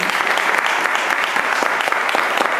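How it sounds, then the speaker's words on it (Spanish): Sustained, dense applause from an audience in a gilded lecture hall in Buenos Aires, honoring music coach Julia Mancini. The clapping is steady and fairly loud, and no one speaks over it. "otro gran aplauso para la maestra Julia Mancini"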